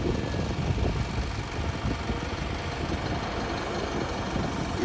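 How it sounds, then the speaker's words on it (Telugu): A cement mixer truck being readied at a construction site in Amaravati, a steady loud low engine rumble with broadband noise, continuous throughout with no talk. "సిమెంట్ పోసే లారీ అనమాట ఇది"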